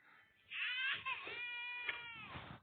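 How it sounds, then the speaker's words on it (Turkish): An infant cries loudly and steadily in wailing bursts with brief catches of breath, close to the listener, without talk. "Bebek ağlamasını duymak istemiyorum."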